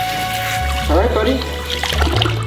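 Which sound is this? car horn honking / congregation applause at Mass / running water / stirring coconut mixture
running water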